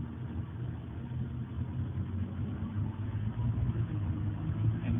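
Mercury Bravo Three sterndrive boat engine running in gear with a shift problem, a steady low rumbling drone with RPM gently rising over a few seconds, muffled and continuous with no talk.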